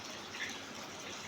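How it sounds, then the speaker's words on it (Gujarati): Water gushes steadily into a household bucket being filled from a tap during home chores, a continuous close splashing rush that holds even and unbroken throughout. "અહીંયા આપણે ડોલ ભરી લેવી"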